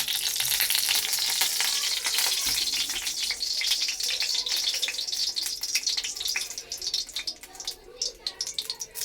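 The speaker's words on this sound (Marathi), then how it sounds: "कांदा टाकते कांदा चांगला फ्राय करून घेते" Chopped onion frying in a spoonful of oil in a kadhai for usal, a steady close hiss and crackle of sizzling with faint stirring scrapes, loud throughout and easing slightly near the end.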